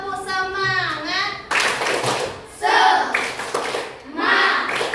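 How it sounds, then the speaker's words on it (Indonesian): Indonesian schoolchildren in a classroom perform a tepuk semangat rhythmic clapping routine, quick patterned claps mixed with loud group chanting and children's voices, close and lively. "Tepuk semangat."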